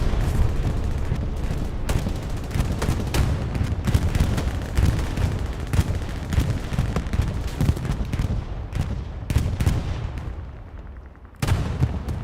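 A bombing run in the World War II shooter game Hell Let Loose on the Stalingrad map brings dense, rolling explosions and gunfire, loud and continuous, with heavy blasts and a final sharp impact.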